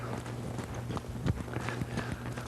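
Hooves of a horse ridden in Western style, clip-clopping in a steady trot rhythm, fairly faint and close, with light background noise and no talk.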